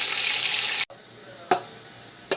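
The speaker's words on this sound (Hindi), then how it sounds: "तेल हमारा गर्म हो चुका है और अब हम इसमें प्याज ऐड करेंगे। लाइट ब्राउन होने तक फ्राई करेंगे।" Onions drop into hot oil for mutton pulao, giving a loud sizzle that cuts off abruptly, followed by quieter frying with two short stirring scrapes.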